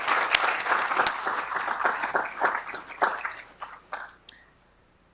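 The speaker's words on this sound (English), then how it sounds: "Please join me for a round of applause." Conference audience applauding, a steady wash of many hands clapping that thins out and fades to near silence toward the end, with no voices over it.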